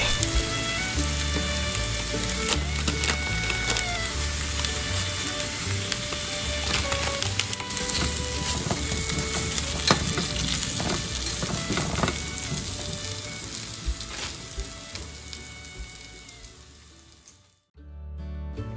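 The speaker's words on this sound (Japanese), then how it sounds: "塩コショウ、青のりを振って全体を炒め合わせたら完成です。" Potatoes stir-fried in butter with salt, pepper and aonori sizzle steadily in a pan, with occasional scraping and clatter, until the sizzle cuts off abruptly near the end.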